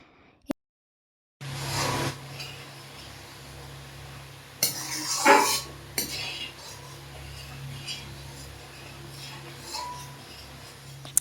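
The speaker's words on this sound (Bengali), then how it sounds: "অল্প অল্প করে সমস্ত লেবুর রসটাই আমি দুধের মধ্যে অ্যাড করে দিয়েছি। এখন অনবরত এটাকে মিক্স করতে থাকবো।" Spoon stirring milk curdled with lemon juice for milk cake, with close metallic scrapes and clinks against the pot, a louder burst of clatter midway, then steadier stirring.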